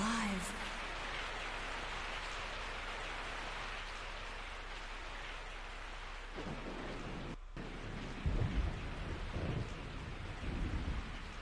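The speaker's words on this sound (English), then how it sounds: "I woke up to the sound of falling rain." Steady falling rain hisses throughout a stormy night scene in the video game Resident Evil 3, with low rumbling thunder swelling toward the end; the downpour is continuous and moderately loud, with no voices.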